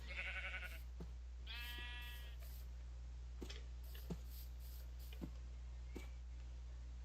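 Sheep in Minecraft bleat twice in short harmonic calls near the start, followed by sparse soft clicks over a steady low hum, with no talking.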